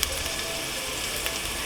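Steady, close sizzling of black beans frying in a pot, a continuous crackling hiss with no talk.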